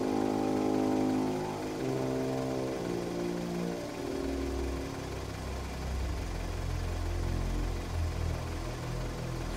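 A vehicle engine idles steadily nearby, a low continuous rumble with a deeper drone settling in toward the end, no voices heard.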